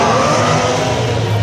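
A Formula 1 race car engine, rated to 17,000 RPM, howls loudly on a track in a brief, sustained high-pitched scream.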